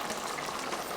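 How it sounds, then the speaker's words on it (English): A brief, close burst of split pea soup with ham bubbling hard at a rolling boil in a pot, steady and fairly loud. "Can you hear that boiling?"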